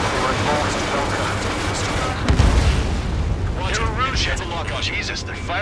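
Gunfire and explosions from the Ace Combat 7 video game, with dense, continuous rumbling booms and one heavier blast midway, mixed under game dialogue.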